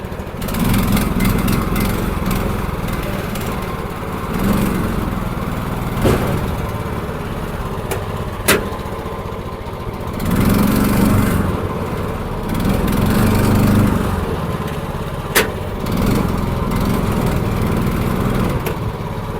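Small engine of a manual tracked dumper with a clutch running steadily outdoors, a continuous droning hum with a few rises in revs and sharp clicks along the way, no talking.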